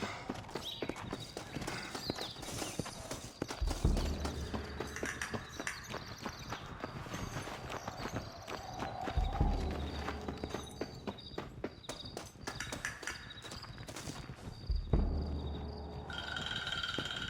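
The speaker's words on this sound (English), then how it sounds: "Looks like Carlos left us some horses." Horse hooves clip-clop at a steady walking rhythm across a Red Dead Redemption game soundscape, with a few heavier thuds and surges breaking in at intervals.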